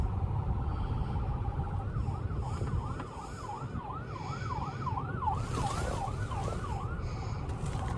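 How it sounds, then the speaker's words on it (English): Ambulance siren wailing in a steady rising-and-falling cycle over the rumble of a car driving through traffic in a Chrysler 300, moderately loud and sustained throughout. "That's an ambulance."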